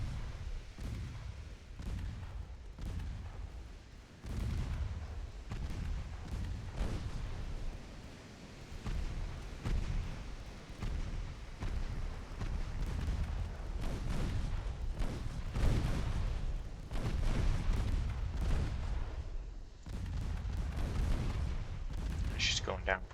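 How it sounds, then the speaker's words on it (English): Naval 2-inch guns rattle off in a naval combat game battle near Hong Kong, a dense, continuous stream of low booming gunfire and rumbling bursts with no letup, loud throughout. "Let the 2-inch guns just rattle off."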